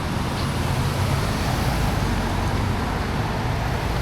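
Heavy road traffic on Algonquin Road in Roselle, heard from the roadside during an e-bike ride: a steady, loud roar of passing vehicles with no breaks.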